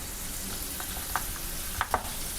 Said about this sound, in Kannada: ಸ್ವಲ್ಪ ಬೆಣ್ಣೆ ಹಾಕೋತಾ ಇದ್ದೀನಿ